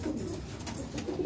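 A pigeon, a male kept as a pet bird, coos in soft low repeated calls close by, the throaty warbling running through the whole moment without talk.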